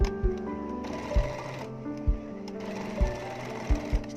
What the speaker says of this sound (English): Okay, so we're gonna sew here.